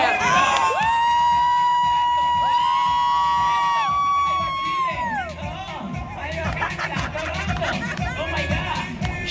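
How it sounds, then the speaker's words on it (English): A crowd cheers and whoops loudly for a performer at a show in Punta Cana, Dominican Republic, starting with bright sustained shouts that fade into lively chatter and scattered yells. "the whole crowd was cheering for her"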